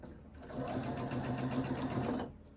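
A sewing machine stitches quarter-inch seams on a quilt block, a fast, even mechanical whirring that runs for about two seconds and then stops, leaving quiet.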